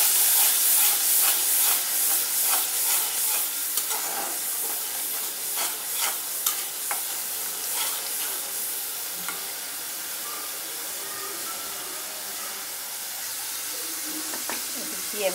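Ghee and water sautéing in a pan give a continuous hissing sizzle, louder at first and then settling, with scattered stirring clicks and scrapes throughout.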